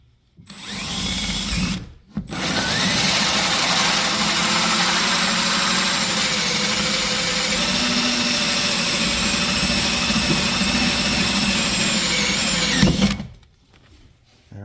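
A power drill runs loud and steady for about eleven seconds, driving screws into a Nucanoe Unlimited fishing kayak. It starts with a short burst, pauses briefly, then holds an even whine with slight pitch shifts before cutting off.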